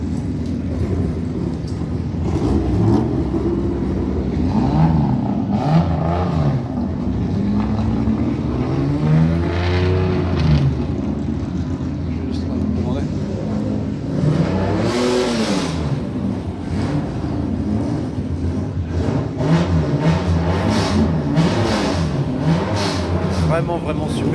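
Mazda 13B rotary engine in a Japanese-style dragster revving loudly and steadily, with rising and falling pitch sweeps throughout and people talking over it.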